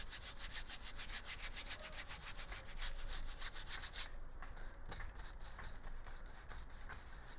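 A paintbrush scrubs paint onto a painting surface in quick, rhythmic back-and-forth strokes, soft but close, with no talking over it.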